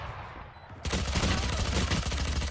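Bursts of rapid gunfire in a shooter video game. After a quiet start, a dense, loud barrage of shots runs continuously to the end.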